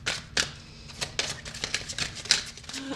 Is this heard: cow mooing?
no